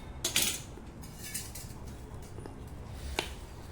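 A spoon clinks and scrapes against a bowl while gram flour batter is mixed for besan pudla, with a few sharp taps early on and near the end over a soft, steady background.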